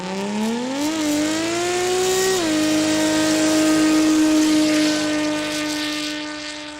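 A car at a quick street day event in Kooralbyn Valley holding a tyre burnout, engine droning loud and near at high steady revs that climb in two steps, with a rough tyre-roar wash behind it and no talk.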